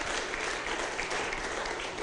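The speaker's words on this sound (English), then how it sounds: "Give the Lord a hand clap." A church congregation claps hands together in a dense, steady burst of applause that fills the room evenly without letting up.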